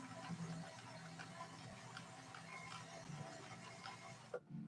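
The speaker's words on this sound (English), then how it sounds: "You can hear the result of that slow gear, the way the machine sounds right now." A 1964 Viking Husqvarna 19E sewing machine runs in slow gear with a steady, faint mechanical whir and ticking. The sound stops briefly near the end.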